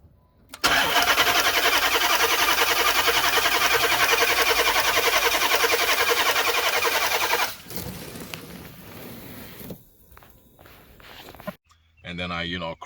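A Hemi engine cranks and catches, then runs loud and steady for several seconds before cutting out, followed by quieter clanks and handling noise nearby.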